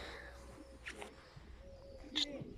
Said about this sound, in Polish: Są gołąbki.